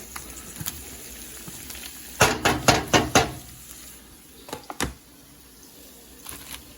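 Onions land in a hot pan and sizzle loudly in a burst of crackling bursts, followed by a few quieter spits and pops as the frying settles, with no talking.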